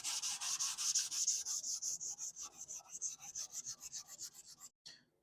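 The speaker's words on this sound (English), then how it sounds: "I'm actually going to trade this for some sandpaper" Bondo body filler on a car body is sanded by hand with 180-grit sandpaper in quick, regular back-and-forth strokes, about thirty hissing rasps close up, slowing slightly before stopping, with no talking.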